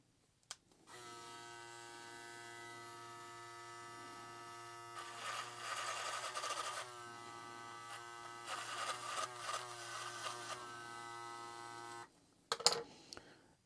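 An Andis Phenom rotary brushless hair clipper runs with a steady electric hum, breaking into two rough, rattling bursts as it cuts through a brush, then switches off. No one speaks.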